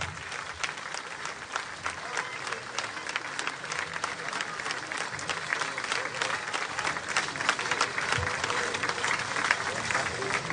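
Crowd applause for a municipal orchestra at a city festival event, dense steady clapping from a sizable audience lasting the whole stretch, with voices mixed faintly into the crowd.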